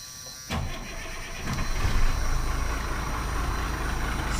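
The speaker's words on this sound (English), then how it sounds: "Cranking it back up again." An RV engine cranks briefly and catches, then builds to a steady, loud, rumbling idle close by, with no talk.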